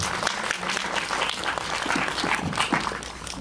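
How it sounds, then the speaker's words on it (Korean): An audience at a film screening Q&A gives a short, steady burst of applause, a dense even clatter of many hands lasting a few seconds. "박수 좀 부탁드리겠습니다"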